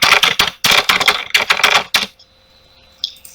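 Keyboard typing a participant's name during an online assessment tryout: close, loud bursts of rapid key clicks for about two seconds, then near silence broken by a couple of faint taps.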